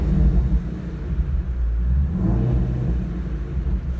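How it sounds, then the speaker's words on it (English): Ford Mustang GT350 in Oxford White with blue stripes, its V8 rumbling deep and loud in sport mode with rising and falling revs, heard close up without talk. "Let me let you listen to that engine again."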